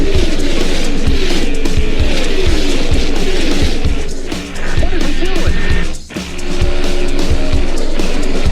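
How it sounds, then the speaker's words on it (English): Race car engines roar loudly and continuously with tire squeals, and a voice talks over the din, which dips briefly twice. "Drivers, start your engine."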